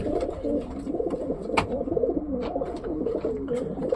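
Racing pigeons bred for long-distance flights coo steadily inside a loft, soft throaty calls overlapping close by with occasional wing or perch noises and no talking.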